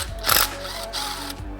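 A ratchet works loose the chain guard bolts on a Suzuki RM250 two-stroke engine during a teardown, with a few short bursts of close, loud clicking separated by brief pauses.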